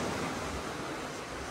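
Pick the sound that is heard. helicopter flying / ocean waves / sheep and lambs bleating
ocean waves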